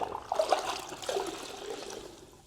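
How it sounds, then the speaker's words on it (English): A sponge is dunked and swished in a bucket of rinseless car wash solution, giving close watery sloshing and splashing that trails off into a faint trickle. "dunk your sponge in here, get it good and ready to go"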